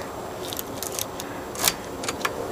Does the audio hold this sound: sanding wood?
no